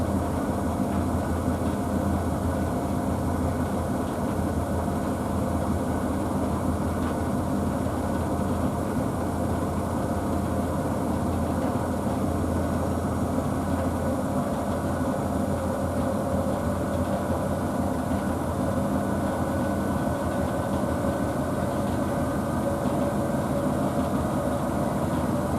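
A Blomberg WNF9448 washing machine on its 1000 rpm final spin, washing waterproof coats, gives a steady, loud, continuous low rumble and whine that holds unchanged throughout, with no voices.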